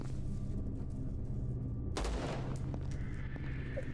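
Video game gunfire in a brutal first-person shooter: a continuous rattle of rapid shots and a heavy burst midway, loud and close, with no talking.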